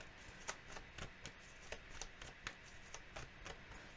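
Tarot cards being shuffled by hand, a steady run of soft papery riffles and flicks repeating roughly every half second, fairly quiet and close with no talking.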